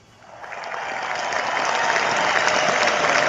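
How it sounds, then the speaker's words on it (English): Applause on a live sports radio show swells quickly from quiet into a loud, sustained wash of many hands clapping and holds at full strength with no talk over it. "Big round of applause for them, folks."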